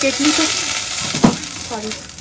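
Broccoli fries in a spoonful of oil in a wok, a close steady sizzle with a single stirring scrape near the middle, while someone talks over it.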